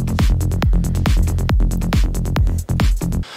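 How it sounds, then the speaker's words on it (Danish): Electronic drums and bass play together in a dance-music production, with a pounding kick on every beat, crisp hi-hats and a deep droning bass, loud and continuous throughout without any voice. "har sin bas og sin trommer sammen, alle sine trommer, så lyder sådan her"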